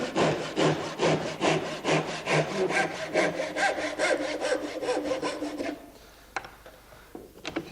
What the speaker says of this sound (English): I'll do it in this vise here,